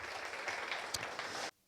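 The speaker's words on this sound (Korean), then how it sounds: "교수님께 박수 부탁드리겠습니다." Applause from a seminar audience for a professor and researchers at the close of a lecture, a dense even patter of clapping held for about a second and a half before cutting off abruptly.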